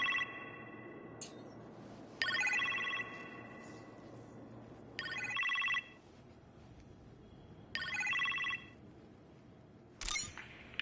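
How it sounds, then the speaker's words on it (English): A phone rings in a kitchen in repeated electronic bursts with pauses between, fairly faint and heard alone without talk, ending in a brief sharper beep. "You appear to have a phone call in the kitchen"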